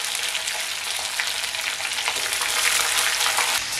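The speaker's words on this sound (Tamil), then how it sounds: "எண்ணெய் எல்லாம் சூடாச்சு, கடுகு உளுத்தம் பருப்பு சேர்த்துக்கலாம்." Mustard seeds and urad dal sizzle in hot oil at the start of a lunch-box recipe, a loud, steady, hissing crackle that fills the whole stretch without any talking.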